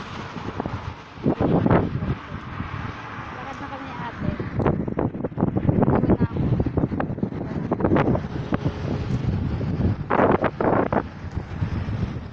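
Gusty wind buffets the microphone with low rumbling bursts while people talk and walk nearby.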